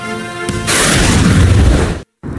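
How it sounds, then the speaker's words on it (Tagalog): Airstrike explosions over Tehran arrive as a heavy, booming burst that swells and rumbles for over a second before cutting off abruptly, loud and close, following a brief lower hum. "Panig ng mga panibagong pagsabog ang Tehran."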